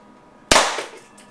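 An APS CAM870 airsoft shotgun fires a single wax slug, giving one sharp, loud bang with a short decaying tail, close and alone.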